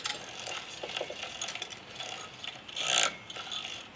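Free-spinning pulley on a homemade drill press table counterweight rig with a sash weight, giving faint, quick ratcheting clicks and scraping mechanical rubs close by, with a brighter grinding burst near the end.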